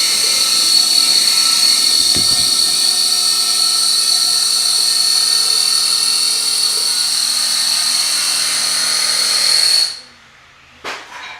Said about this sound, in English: Sorry for the noise. There's construction.